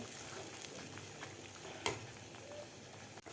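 Masala spice paste sautéing in a pan over medium gas for an egg rassa curry, a soft steady sizzle with occasional spoon scrapes and one sharper clank near the end.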